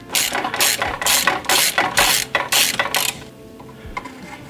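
A ratchet on a long extension with a 27 mm socket clicks in quick repeated bursts of pawl chatter, about seven strokes close up while loosening an oil filter on a Peugeot 207, then goes quiet.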